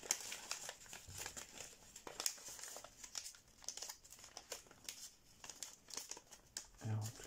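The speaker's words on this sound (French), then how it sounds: "on replie les 4 côtés du carré en pli montagne." Paper creased and folded for an origami beaver model, with repeated close crinkling and crumpling sounds throughout and a voice talking over them.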